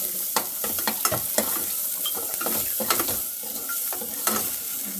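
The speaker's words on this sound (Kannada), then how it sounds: "ಎಲ್ಲ ಅಡುಗೆಗೂ ಒಂದು ಸ್ವಲ್ಪ ಎಣ್ಣೆ ಹಾಕೋದ್ರಿಂದ ಏನಾಗುತ್ತೆ ಅಂದರೆ ಸ್ವಲ್ಪ ಸಿಡ್ಲಿಕ್ಕೆ ಸ್ಟಾರ್ಟ್ ಆಗುತ್ತೆ." Oil spluttering as food fries in a pan: constant sizzling crackle with sharp pops and spoon-against-pan scrapes and clinks scattered through it, heard up close and alone.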